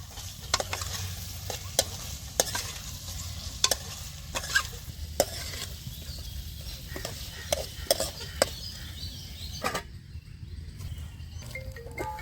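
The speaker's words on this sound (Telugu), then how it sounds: "మధ్య మధ్యలో అడుగంటకుండా చికెన్ని కలుపుకుంటూ ఉండాలి." Chicken stir-frying in a pan for an Andhra-style fry, with a low continuous sizzle under frequent sharp spatula scrapes and taps against the pan, close and moderately loud with no voices.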